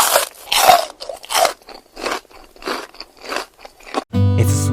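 Loud, close crunching bites and chewing of a crispy, golden deep-fried blooming onion, with repeated crackly bursts at a steady chewing rhythm.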